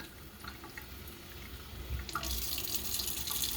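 Tap water pours into a waterproof cast on a limb, a soft trickle that swells into a louder, steady close-up splashing rush partway through.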